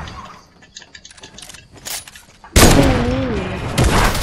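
Gunfire in a one-on-one video game match: scattered faint shots early on, then a loud burst of game action and noise that fills the rest of the moment, with no talking.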